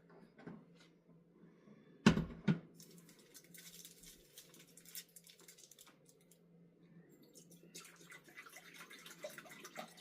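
Quiet, uneven splashing and patter of about four cups of water running into a pot for soup, with a couple of louder knocks early on, close by and otherwise steady.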